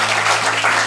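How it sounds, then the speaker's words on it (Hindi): An audience at an Urdu poetry recital in Surat claps together, a dense, even burst of applause filling the short moment with no voices over it. "मैं चाहता हूं कि आप लोग एक बार तालियां बजाएं"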